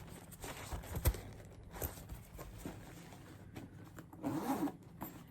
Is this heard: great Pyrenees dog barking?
no